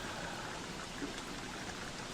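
Even, continuous rain patters in the video game Don't Starve, a soft steady hiss with no one speaking.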